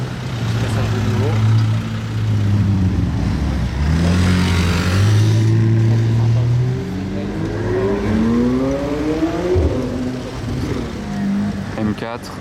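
A BMW M4 sports car passes on a road where many GT3 and GT3 RS cars are seen, its engine note climbing and sweeping past loudly with clear revving. Voices speak over part of the pass.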